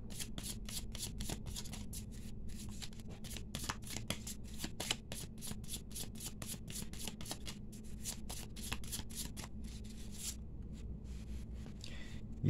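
A tarot deck is cut and handled on a table: rapid crisp card flicks and riffling snaps repeat in quick irregular bursts, close and clear, with a low steady room hum beneath and no talking.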